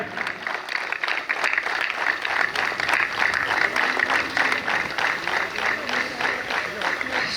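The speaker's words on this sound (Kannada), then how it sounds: "ಮತ್ತೊಮ್ಮೆ ಜೀವರಾದ ಚಪ್ಪಾಳೆ" A crowd at a police annual sports meet claps steadily in sustained applause that holds at an even level throughout.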